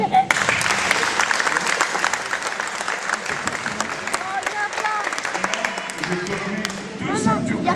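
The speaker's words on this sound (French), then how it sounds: "Et bon, on l'applaudit" Crowd at a 2011 martial arts gala in Flavigny-sur-Moselle applauds with continuous, lively clapping, many hands overlapping closely, with a voice surfacing briefly near the end.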